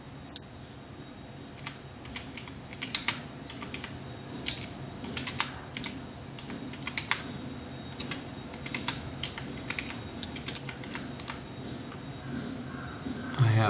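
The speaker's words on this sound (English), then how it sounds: "whenever I type something here" Nearby typing on a computer keyboard, with irregular key clicks and quick bursts spread across the whole stretch over a faint background hum.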